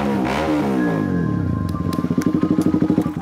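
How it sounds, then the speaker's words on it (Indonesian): A motorcycle engine revs high, drops in pitch, then settles into a loud, pulsing idle with rhythmic throttle blips, close by. "Apa sih yang mainin gas motor?"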